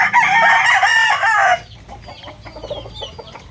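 Fighting cocks bought in a batch of ten crow loudly up close, one long strained crow followed by softer scattered clucks and low murmurs from the flock.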